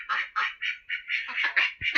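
Ducks kept together with chickens quack close by in a quick run of about eight loud, nasal calls in steady rhythm, with no speech.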